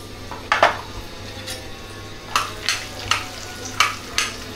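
Ajwain and peanuts fry in hot oil in a kadhai, a low sizzle broken by several sharp scrapes and clinks of a spoon stirring against the metal, close and distinct, with no talking.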